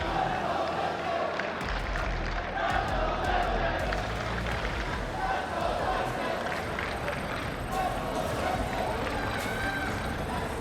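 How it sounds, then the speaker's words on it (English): A large indoor esports arena crowd roars continuously in the background while an excited announcer talks over it during an Overwatch tournament quarterfinal. "the crowd is just still as loud as they can be"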